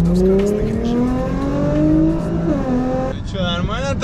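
A tuned Nissan GT-R with around 750 horsepower revs and accelerates on the road, its engine note rising steadily in pitch, then dropping briefly before climbing again, loud and close from inside the car.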